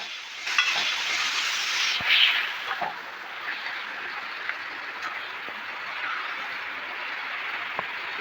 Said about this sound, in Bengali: কচুর ডাগাগুলো দেওয়ার পরে ভালো করে কষিয়ে নাড়িয়ে চাড়িয়ে নিতে হবে